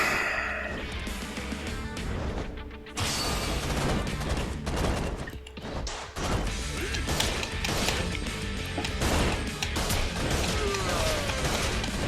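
Gunfire in the crime game Yakuza 0 comes as rapid, loud bursts of shots and impacts over nearly the whole stretch, with brief lulls between volleys.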